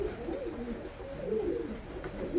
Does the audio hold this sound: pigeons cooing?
yes